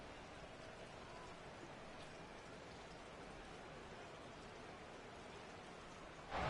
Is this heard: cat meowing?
no